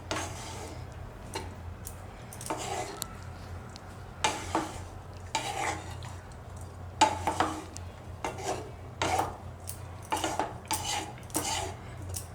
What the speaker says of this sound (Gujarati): લીંબુ નાખીને આપણે મિક્સ કરી લેવાનું આ રીતે